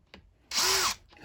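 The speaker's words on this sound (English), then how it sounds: "Just to show you the point, we'll drill this one bigger." A power drill boring a bigger hole whirs loudly in one close burst of under half a second, with quieter handling noise before and after.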